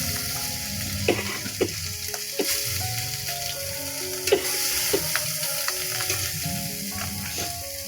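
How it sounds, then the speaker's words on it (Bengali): Garlic and chopped onion fry in a pan with a loud, continuous close sizzle, punctuated by stirring scrapes and utensil clicks against the pan. "রসুন দিলাম আর পেঁয়াজ কুচি"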